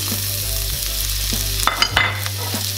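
Dried meat (sukuti) sizzles steadily in hot oil after garlic ginger paste is added. The frying is loud and continuous, broken by a few scraping stirs near the end.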